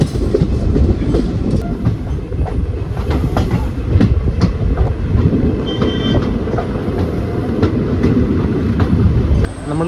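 A train rolls over the 13-arch bridge near Thenmala with a steady, loud rumble and repeated wheel clatter, continuous and close by from start to finish.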